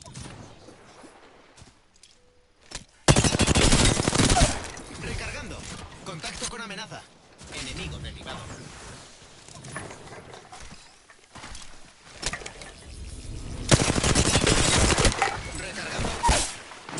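Enemy gunfire in a video game, bursts of loud broadband shots in two clusters, near and harsh, separated by quieter stretches of game ambience.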